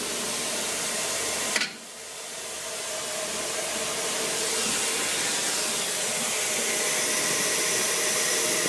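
Vacuum blower running in a physics slider lab, a loud, steady broadband hiss and rush that continues throughout, with one brief sharp click near the start and a slight drop in level afterward.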